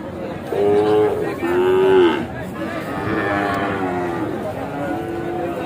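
Sahiwal bulls at a busy cattle market give several drawn-out moos, close and loud, with crowd chatter and voices in the background throughout.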